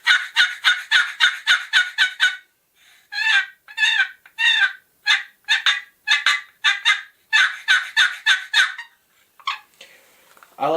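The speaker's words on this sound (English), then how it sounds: "A bone collector box call" Bone Collector turkey box call worked by hand, producing loud, close series of raspy yelps and clucks in quick rhythmic bursts separated by brief pauses, ending with a softer scrape.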